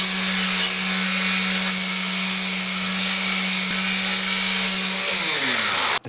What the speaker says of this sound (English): Let that dry overnight and then we can start sanding.